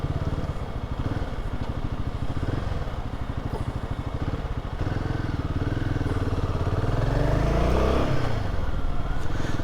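A motorcycle ridden on a road in India: close, steady engine putter from the bike with a throttle rise toward the end, with road and traffic noise around it.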